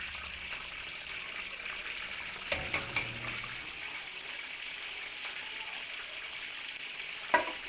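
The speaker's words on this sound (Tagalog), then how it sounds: "Pwede na po natin prito dito yung embutido nating ginawa." Homemade embutido frying in oil with a steady, even sizzle in a large-batch cooking setting for a Filipino catering job, plus a few brief clinks and knocks of utensils.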